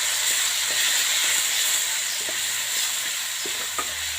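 Spiced grape curry sizzles steadily in a pan with salt mixed in, a constant close frying hiss broken by soft, scattered scrapes and taps of a spoon stirring.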